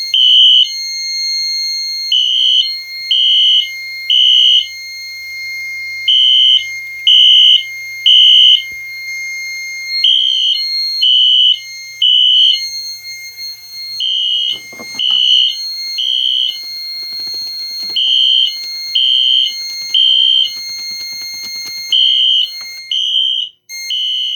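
A Wheelock fire alarm system sounds during a test in loud, regular pulsed beeps, a high electronic tone repeating steadily with short gaps, close by and dominating the scene.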